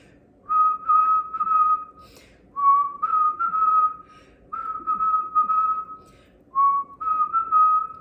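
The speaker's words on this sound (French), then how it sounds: "Et la dernière minute, donc la 3e minute, on va le siffler." A person whistles during a meditation, several sustained melodic phrases in a row with short pauses between them, clear and close in a quiet room.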